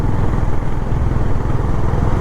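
A 2025 Honda H'ness motorcycle cruises on a highway with its exhaust note a steady, loud low drone and rapid firing pulses, heard close and continuous with no other sounds.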